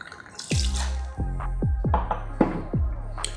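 Pisco being poured into a jigger while a Pisco Sour is built: a handful of close, distinct liquid splashes and drips in an uneven rhythm, heard alone.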